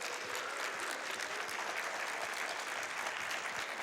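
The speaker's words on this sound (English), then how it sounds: "Let's get some excitement from the crowd." Dense, steady applause from a crowd at a speedrun event fills the whole stretch evenly, with no pauses and no speech on top.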